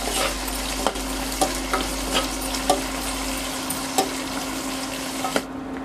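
Chopped onions with salt frying on a low flame, giving a steady, close sizzle with occasional soft stirring taps against the pan.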